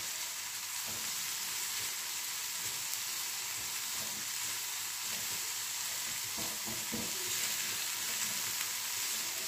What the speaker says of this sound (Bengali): একটু ফ্রাই করে নিতে হবে ভালো করে নেড়ে।